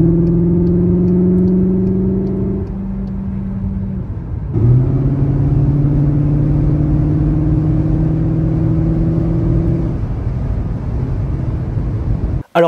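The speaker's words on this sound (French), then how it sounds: "On entend vraiment le gros bruit de V8 qui s'anime" Inside a Cupra Formentor VZ e-hybrid 245 DSG6 in Cupra mode, a loud synthetic V8 engine drone rises steadily in pitch, dips at a gear change, then climbs again, heard close from the cabin.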